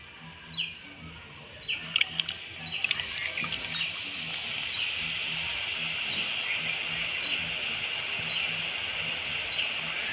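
Boondi batter of gram flour dripping through a slotted ladle into hot oil in a home kitchen, a steady bubbling fry hiss with scattered crackles and faint drips, no one talking.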